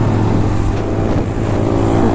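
A Honda Grom motorcycle held at full throttle on a motocross track, a loud steady high-revving engine drone that barely wavers, close and continuous without talk.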